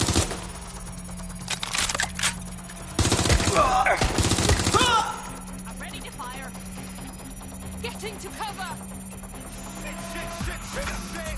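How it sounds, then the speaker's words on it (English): Gunfire in Watch Dogs Legion: a couple of sharp rapid bursts of automatic shots early on, then quieter combat sound with faint chatter and background noise. "They're shooting at us!"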